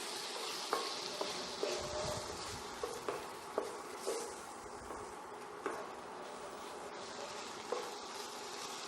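Grated coconut sautés with pumpkin poriyal in a pan, a soft, low sizzle with a string of light spatula taps and scrapes at fairly regular intervals.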